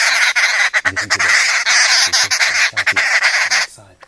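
Arrow-marked babblers call loudly and continuously at close range from a bush camp, a dense chattering chorus with a person talking in bursts underneath, fading out at the end.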